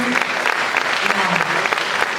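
An audience applauds an award recipient, Dr. Kamini Rao, at a film critics awards ceremony, a dense burst of clapping filling the hall for a couple of seconds.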